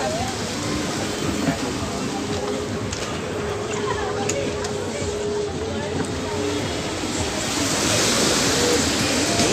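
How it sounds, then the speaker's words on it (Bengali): Sea waves slap and surge against hotel steps at the shore in Digha, making a loud, constant wash of surf close by, while someone speaks over it. "সমুদ্রের জল সিঁড়ির মধ্যে এসে ধাক্কা মারছে"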